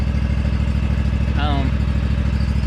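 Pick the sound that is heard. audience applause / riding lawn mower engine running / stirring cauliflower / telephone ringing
riding lawn mower engine running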